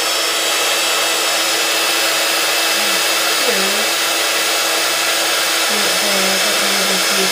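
Embossing heat tool blowing hot air over a stamped MDF boot craft piece, a loud, steady, close-up whirring hiss that runs without a break, with no talking.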